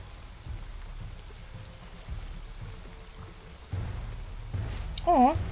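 Steady rain falls in Shadow of the Tomb Raider, a soft continuous hiss with low rumbling beneath, building slightly toward the end where a short tonal game sound rises over it.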